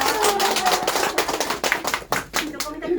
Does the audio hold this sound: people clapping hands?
yes